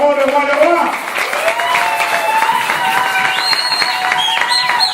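Church congregation clapping and cheering together, a dense, steady wash of applause with raised voices and a sung or shouted tone running through it, loud and close throughout.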